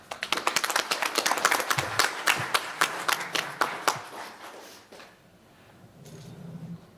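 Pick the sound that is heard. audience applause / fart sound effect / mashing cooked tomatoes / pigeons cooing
audience applause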